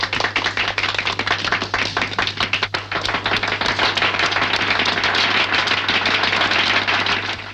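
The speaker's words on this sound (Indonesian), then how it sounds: "Tepuk tangan untuk Herman Rante." Audience applause for a pianist at a stage show, loud dense clapping that keeps going steadily throughout, close and continuous with no talk over it.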